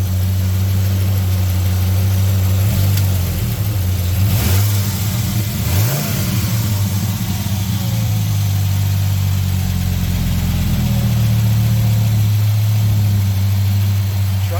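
A Dodge Ram SRT10 Viper truck's V10 engine idles with a deep, steady rumble close by, interrupted by a couple of brief throttle blips around the middle before settling back to idle.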